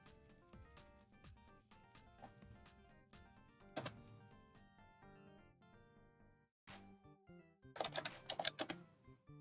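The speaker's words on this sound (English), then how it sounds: "sorry, I gotta focus on typing." Computer keyboard keys clack in quick, uneven bursts, faint and close, alone except for a few heavier thunks and a short pause in the middle.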